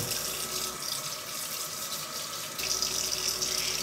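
Running tap water pours steadily into a sink while two pounds of jumbo shrimp are rinsed, a close, continuous splashing hiss.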